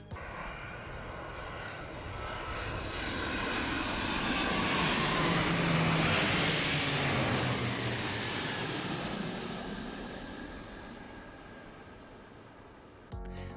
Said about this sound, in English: These two A340s flying in formation with the Silver Falcons.